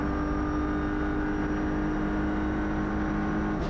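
Onboard an Audi RS3 LMS WTCR race car on track at Motorland Aragon, the engine holds a loud, steady, high-pitched drone with constant intensity and a slight shift near the end.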